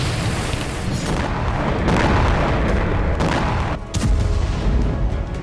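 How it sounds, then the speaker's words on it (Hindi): Explosions in Gaza go off back to back, loud and rumbling, with several sharp blasts punching through a constant heavy roar and a brief dip before another burst. "तो कहीं बैक टू बैक धमाके पूरे इलाके को दहला रहे हैं।"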